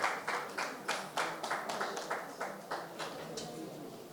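Scattered hand clapping at a software launch event, a dozen or so distinct claps in an uneven rhythm, fairly faint and thin rather than a full crowd.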